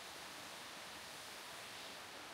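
Umantad Falls in the Philippines gives a steady, even rush of falling water, a faint broadband hiss with no breaks, voices or other sounds over it.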